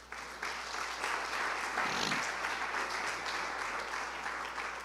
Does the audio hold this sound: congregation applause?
yes